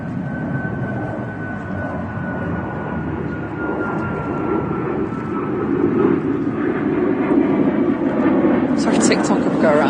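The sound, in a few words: aircraft flying overhead at Manchester Airport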